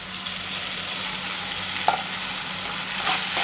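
Ground spice paste fries with tomatoes in hot oil, a continuous close sizzle and crackle with a few soft stirring scrapes of a spoon against the pan.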